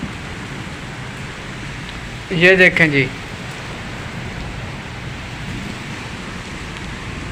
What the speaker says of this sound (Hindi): तेज़ हवाओं के साथ बहुत ज़्यादा बारिश शुरू हो गई है।